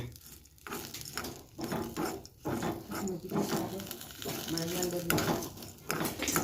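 A utensil stirs and scrapes against a pan as cumin and other spices for kalale majjige sambar are dry-roasted, giving repeated clinks and scrapes while a person talks over it.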